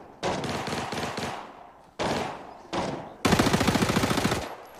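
Bursts of automatic gunfire in a shooter game: a short rapid burst, two brief bursts, then a longer steady string of shots, each loud and close with quiet gaps between.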